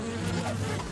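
Killer bees buzz close by, a dense droning hum that wavers slightly in pitch throughout the short moment, with no voices.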